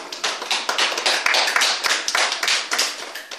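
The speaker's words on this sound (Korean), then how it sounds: "하나님께 영광의 박수 올려드립니다." Church congregation applauding together in worship, a dense burst of hand claps that swells and fades over a few seconds.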